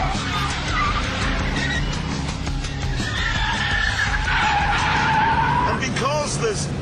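A Dodge Viper SRT-10 on fat tyres breaking traction, with a loud, continuous tyre squeal and skid over a roaring engine, the pitch wavering as the car slides. Someone talks over it.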